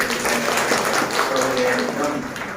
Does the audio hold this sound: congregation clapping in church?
yes